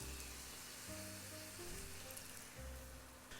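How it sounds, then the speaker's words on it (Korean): Water poured into a pan of almond brown rice porridge with soy sauce, cooked risotto-style, coming to a boil as a faint, steady sizzle and bubbling hiss, with no talking. "이렇게 넣어서 해주면 바로 끓기 시작합니다."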